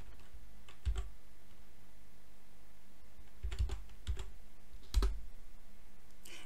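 Sparse clicks of a computer keyboard as a date command is typed at an MS-DOS prompt: a few isolated keystrokes spread across several seconds, close and crisp, with no talking.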